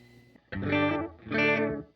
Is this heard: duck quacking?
no